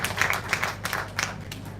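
An audience at a Jamaican Ministry of Health & Wellness event claps for the ministry team in a brief, scattered burst of hand claps over a low room hum.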